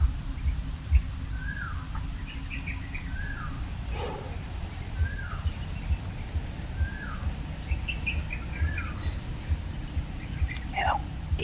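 A bird in the mountains gives short, repeated descending calls every second or two, moderately distant and clear above a steady low background hum, with faint whispering nearby.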